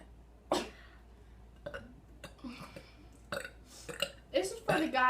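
Several burps from a person doing a burping challenge, erupting in short irregular bursts, some loud and close, with brief speech and laughter between them.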